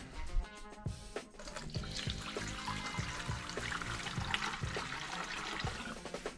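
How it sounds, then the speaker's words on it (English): Water gushes steadily into a garden pump sprayer tank while it is filled with about half a gallon, a continuous splashing, trickling pour close to the listener. "you should put half a gallon of water in your sprayer. So I'm gonna do that real quick."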